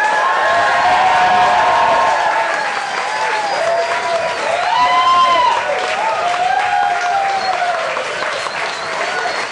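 A theatre audience bursts into loud, sustained applause mixed with cheers and whoops, filling the room continuously from start to finish.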